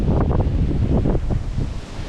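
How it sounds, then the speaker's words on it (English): Strong wind buffets the microphone in loud, rumbling gusts, with a rushing roar that barely lets up. "Quite windy here."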